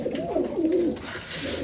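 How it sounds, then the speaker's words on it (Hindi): A pigeon coos alone and close by, one low, rolling, throaty call wavering up and down before trailing off, with no voices present. "दोस्तों यह कबूतर भी मेरा बहुत अच्छा आउट क्लास कबूतर है"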